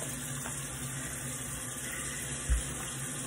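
A tap runs steadily while soap washes Murray's Super Light pomade off the hands: a faint, even rush of water, close by, with one brief splash or knock near the end and no talking.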